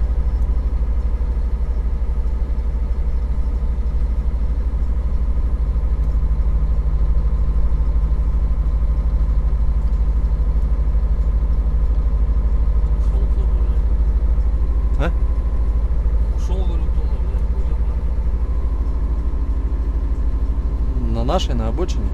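A car engine holds a low, steady rumble as it tries to pull away uphill on a snowy road in manual mode, stuck in stalled snowfall traffic, with a few sharp clicks and brief knocks later on.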